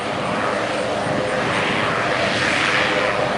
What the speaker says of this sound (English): the B-17 Lady Liberty getting ready to taxi out for another set of rides